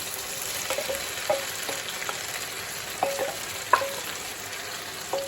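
Cheap-cut beef searing in a pan for a slow-cooker Steak Diane casserole: a steady close sizzle broken by a few sharp scrapes and clinks as the meat is stirred and turned, with no talk.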